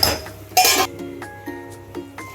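A metal lid set onto a cooking pan of ridge gourd and dried prawn curry, two sharp close clanks with a brief ringing tail, followed by a few quieter taps.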